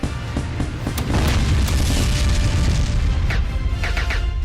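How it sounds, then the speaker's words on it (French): Ship cannons in a video game fire a salvo, a dense rumbling barrage of booms with scattered sharper blasts over a loud, continuous battle din. "Rechargez les canons et tirez une autre salve."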